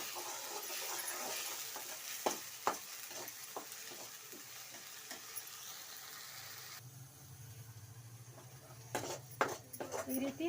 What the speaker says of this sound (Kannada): ಈ ರೀತಿ ಹಸಿ ವಾಸನೆ ಹೋಗೋವರೆಗೂ ಮಸಾಲಾನ ಫ್ರೈ ಮಾಡ್ಕೊಂಡಿದ್ದೀವಿ